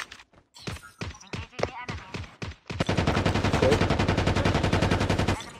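Gunfire in a Call of Duty Mobile tournament match: a string of loud, close single shots, then sustained rapid automatic fire that rattles on without pause.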